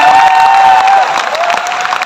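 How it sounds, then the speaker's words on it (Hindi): Loud applause and cheering for an honored member at a direct-selling company event: a dense, continuous wash of clapping from a crowd, heavily amplified with a sustained tonal ring or music layered over it throughout. "राजेश यादव जी के लिए जोरदार तालियां"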